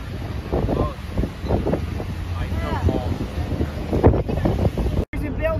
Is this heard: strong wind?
yes